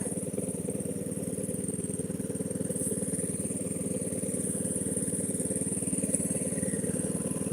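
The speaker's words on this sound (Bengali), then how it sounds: "ওই জায়গায় একটা জেনারেটর লাগছে" A generator running steadily near vegetable fields on the bank of the Longai River in Karimganj, a continuous, even mechanical drone with a fast regular pulse, moderately distant and alone.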